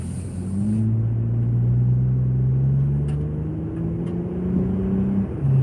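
A car drives steadily, heard from inside as a low, continuous engine rumble and road drone with gently rising gear tones, close and unbroken throughout.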